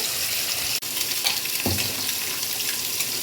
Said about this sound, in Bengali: এবার আমি ভালো করে মশলাটা একটু কষিয়ে নিই।